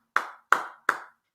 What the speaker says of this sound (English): Give us some claps.